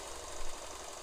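A Singer 66/99/185-family sewing machine runs with a steady vibrating mechanical hum, faint and continuous, with a brief louder rattle partway through, no voices.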